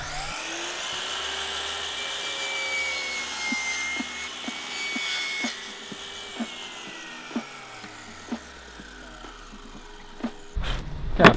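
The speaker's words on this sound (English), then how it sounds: "after putting a couple of holes in there and just smoothing off the edges" Wood being worked by hand on a climbing pinch block backed with plywood, with soft rubbing and rasping strokes, occasional light knocks and a faint whine behind, ending in a brief louder burst.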